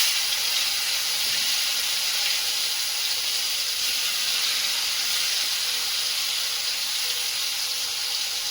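Chopped chili, ginger and garlic hitting a hot pan with asafoetida while making stuffed parwal, giving a steady, loud broadband sizzle and hiss that holds evenly throughout with no voices.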